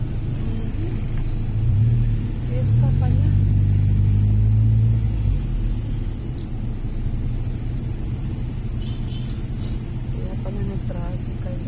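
Car engines idling and creeping through congested road traffic during a town fiesta, a low steady rumble that swells early and persists, with people talking over it throughout.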